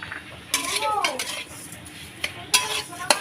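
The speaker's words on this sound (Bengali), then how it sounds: "ভালো করে ছাইটা মেরে নিচ্ছি আমি" Grated coconut and sugar are stirred and pressed in a wok for a banana-leaf fried pitha filling, heard as several close scraping, clattering strokes of a metal spatula separated by brief pauses.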